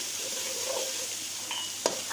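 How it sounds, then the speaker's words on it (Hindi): Spices stirred into mashed tomatoes simmering in ghee for a meat pulao, a steady soft sizzle with faint stirring scrapes and a sharp clink of a utensil near the end. "अब हम इसके अंदर मसाले ऐड करेंगे। और इनको अच्छी तरह मिक्सअप करेंगे।"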